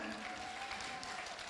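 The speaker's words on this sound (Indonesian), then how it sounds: "Tepuk tangannya mana?" Audience applause at a pop singing competition final in Singaraja, Bali, a steady wash of clapping from the crowd running throughout, with a faint sustained tone and some voice mixed in.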